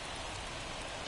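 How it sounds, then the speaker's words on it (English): Steady heavy rain falls on a baseball field in the MLB The Show video game, a dense, even hiss filling the whole moment with no voices. "the field's not going to be able to hold up if the rain gets any worse than this"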